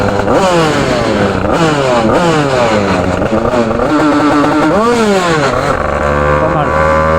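A Yamaha DT 86 motorcycle engine runs loud and close throughout, its pitch sweeping up and down with repeated revving and throttle blips, with some voice mixed in underneath.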